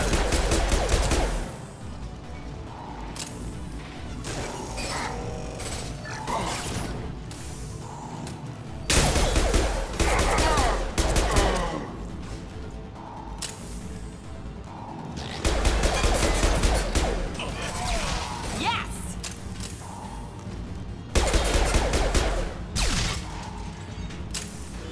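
Rapid bursts of automatic gunfire from a Mass Effect 2 firefight, loud repeated volleys with short gaps between them and mechanical clatter underneath, no talking.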